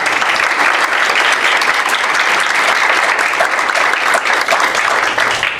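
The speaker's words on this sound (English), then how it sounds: "but let's give them a round of applause." A conference audience at an education research flash talk applauds steadily, a dense, even wash of many hands clapping close and loud for the whole stretch, with no pauses or voices standing out.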